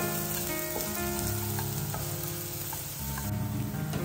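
Sprouts fry in a pan until golden brown, giving a steady, even sizzle close up with faint stirring scrapes and no talk.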